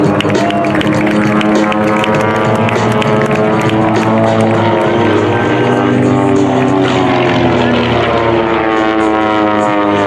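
Redline Airshows aerobatic propeller aircraft climb during a display at the Great Texas Airshow, their engines giving a loud, steady droning roar throughout with a slowly shifting pitch.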